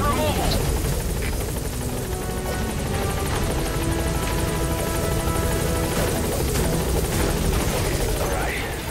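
Support helicopter arriving in the video game Metal Gear Solid 5: The Phantom Pain, a steady loud rotor drone filling the whole stretch, with faint game voices beneath.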